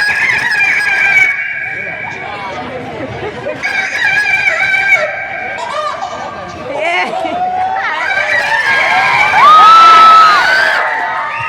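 People on stage at a live comedy show mimic a rooster crowing, several drawn-out voiced crows one after another, loud and close, with crowd noise and cheering around them.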